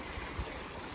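A small creek runs along the Appalachian Trail near a shelter in New Jersey, giving a steady, close, full rushing babble of water with no voices.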